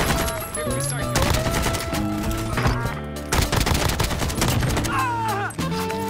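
Sniper gunfire in the video game Warzone, several sharp shots cracking over game music and effects, loud and close, without clear speech.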